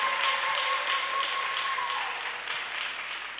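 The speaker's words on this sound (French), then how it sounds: "Clap offering to Jesus Christ." A church congregation claps in praise to Jesus Christ, a dense, fairly close patter of hands holding steady for a few seconds, with a faint tone running beneath the start.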